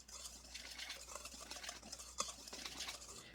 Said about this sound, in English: Now we're going to whisk that together.